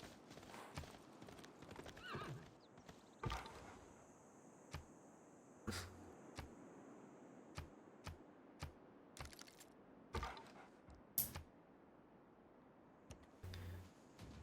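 Horse hooves clip-clop in irregular, fairly distinct strikes at a moderate distance, with occasional sharper cracks and a low outdoor background; no talking is heard.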